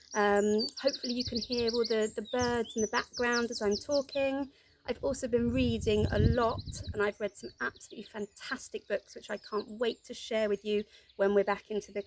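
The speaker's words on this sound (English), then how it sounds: "Hopefully you can hear all the birds in the background as I'm talking." Small birds chirp and sing outdoors in a garden, repeated high tweets running steadily in the background beneath someone speaking close up.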